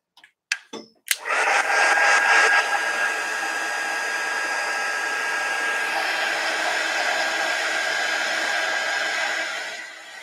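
A hair dryer blows over a wet watercolor painting of trees: a few brief clicks and bursts, then a loud continuous whoosh held steady for several seconds before easing off.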